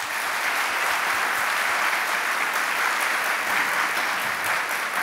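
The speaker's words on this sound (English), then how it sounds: "Please give those folks a round of applause." An audience at a university chancellor's staff meeting applauding, dense continuous clapping from many hands filling the room, steady and loud throughout with no talk.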